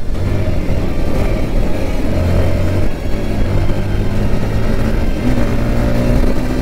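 A KTM RC390 motorcycle drag races through city traffic, its engine droning loudly and steadily with rising revs and gear shifts, surrounded by road and wind noise.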